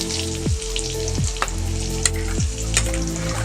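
Garlic paste and tomato sizzle in oil for pork kosha in a pan over a small wood-fired clay stove, with a steady fry broken by a few sharp scrapes and clinks of stirring, close and alone.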